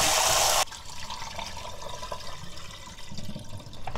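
Soaked glutinous rice being rinsed in water for oyster porridge: a brief loud rush of running water, then quieter, continuous sloshing and trickling of water with the rice.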